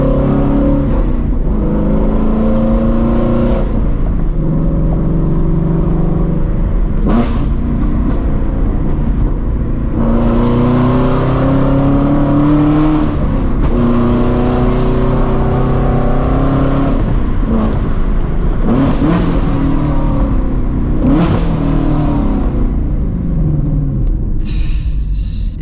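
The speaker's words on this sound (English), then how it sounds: "the downshifts are amazing. No rev match, by the way." A straight-piped Shelby GT350 roars loudly and continuously through hard throttle pulls and downshifts without rev matching. Rising revs crack into sharp blips and deep rumbling drops, heard close from inside the car.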